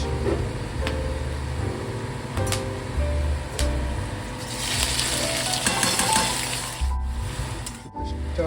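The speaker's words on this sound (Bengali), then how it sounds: "এবারে দেবো কিছু খাড়া মশলা, গরম মশলা, যাবে পেঁয়াজ" Whole spices and onion frying in hot oil for a dhaba-style mutton curry: a steady close sizzle that swells noticeably partway through, with a low hum beneath and no talking.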